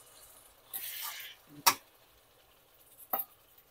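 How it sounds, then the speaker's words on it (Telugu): Tomato pieces dropping into a pan of simmering dried fish curry, with a soft rustling sizzle, one sharp clatter near the middle and a second thud later, close and clear. "టమాటో వేస్తున్నాను"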